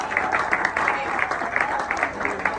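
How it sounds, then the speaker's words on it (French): A crowd applauds champions of an interschool volleyball final, steady clapping with distinct hand strikes recurring throughout, fairly loud and close, with a voice faintly present beneath. "Applaudissez s'il vous plaît."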